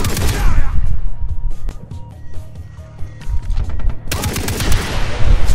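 A mounted gun in Far Cry 3 fires in loud rapid bursts, with a quieter gap in the middle before heavy fire resumes, close and dominant.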